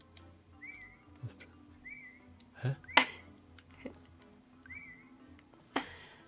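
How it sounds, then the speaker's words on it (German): A character in the farming game Story of Seasons: Friends of Mineral Town whistles in three short, rising tones spread over a few seconds, fairly faint, among soft game sounds and a couple of brief spoken words. "Ich hab hier mit ZL einfach gepfiffen."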